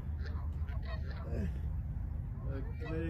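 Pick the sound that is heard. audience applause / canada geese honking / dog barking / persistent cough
canada geese honking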